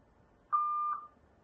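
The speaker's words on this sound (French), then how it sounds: "J'appuie, je vais entendre un bip et laisser mon message." An audio guestbook telephone gives a single clean electronic beep, about half a second long, before message recording, clear and alone against a quiet background.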